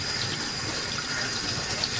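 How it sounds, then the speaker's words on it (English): Clean tap water runs steadily over a vacuum cleaner part during belt change and cleaning, a continuous close hiss of flowing and splashing water with no talk. "You just run water on it."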